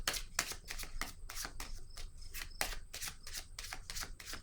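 Rapid, dry flicking and shuffling of a tarot card deck being handled, with dense bursts of crisp paper rustle repeating through the moment, close by.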